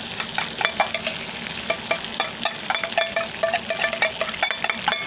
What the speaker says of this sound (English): See how nice it is bubbling up with the butter and everything.